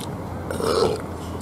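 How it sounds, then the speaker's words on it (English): A single drawn-out burp from a person pausing mid food review, rising to a peak in the middle and fading away, close and fairly loud against a quiet room. "I think I'll wait for another burp before I continue on."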